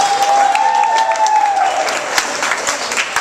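A crowd of children applauds at a magic show for military families, loud, dense clapping that runs throughout with a few sharper individual claps standing out.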